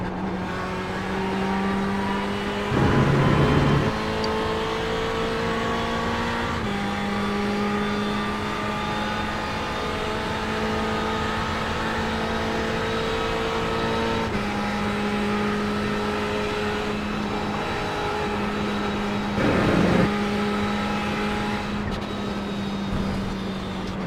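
A race car engine drones loudly from inside the cockpit during the Spa 24 Hours, holding a steady pitch with two short bursts of harsher noise along the way.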